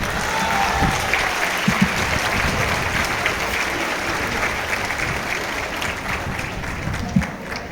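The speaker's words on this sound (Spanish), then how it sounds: "Muy bien, un aplauso muy fuerte." Loud, steady applause from an audience at a catechist day gathering in a chapel, continuous clapping with a few sharper claps and a faint voice or two underneath.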